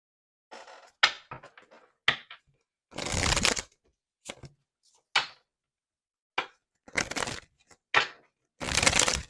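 Tarot deck being shuffled by hand in short bursts of riffling, flapping card noise separated by quiet gaps, close and fairly loud, with no speech.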